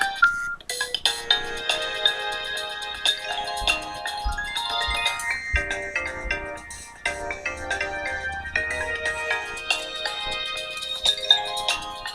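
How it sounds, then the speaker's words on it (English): A bright, melodic Nokia 6288 phone ringtone plays continuously, with faint low buzzing vibration pulses now and then underneath, syncopated with the music. "I don't know if you can hear the vibrations, but they're like syncopated with the music."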